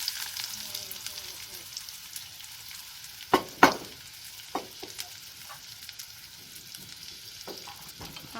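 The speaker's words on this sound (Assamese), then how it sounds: "আৰু এইখিনি ৰঙচুৱাকৈ ভাজি ল'ম" Onions frying in a pan while mutton korma is cooked in a home kitchen, giving a low steady sizzle broken by a few sharp stirring clatters near the middle, with no talk.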